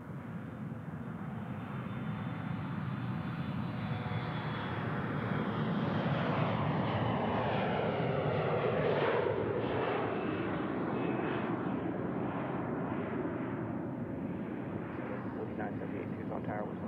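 Airplane engines roaring as a plane takes off from runway 12 at Tucson International Airport, a broad sustained rumble that swells and then slowly fades, heard from a distance with voices faintly in the background.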